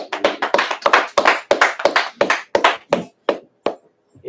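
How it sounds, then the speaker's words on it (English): A small group claps in uneven, scattered bursts at a religious brotherhood class, the sharp hand claps tapering off and growing sparser toward the end, with no talking over them. "Yeah, clap that up."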